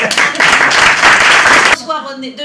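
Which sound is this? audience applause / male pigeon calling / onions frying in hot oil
audience applause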